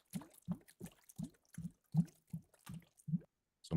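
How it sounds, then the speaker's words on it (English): Underwater bubble layer from a game sound-effect design: a rapid series of about ten distinct bloopy bubble pops in an irregular rhythm, close and clear with silence between them. "some nice bubbles."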